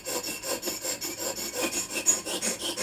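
A new TUSQ guitar saddle for a Martin D42, held in a vise, is filed to a 16-inch radius with steady back-and-forth rasping strokes, close and even, with no voices.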